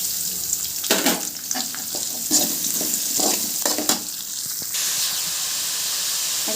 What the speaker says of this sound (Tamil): அடுத்து வெங்காயம் சேர்த்துக்கலாம்